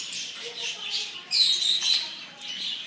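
A pet bird gives high, thin chirps and squawks at close range, with a louder, sharper squawk burst midway, the calls coming in short uneven bursts.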